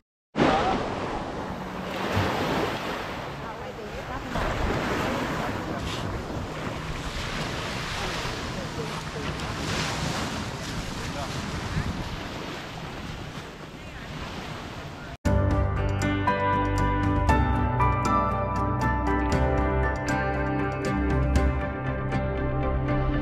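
Sea waves washing onto a sandy beach where people bathe in sand, a steady loud broadband wash with wind noise, then switching abruptly to dense layered music for the last several seconds.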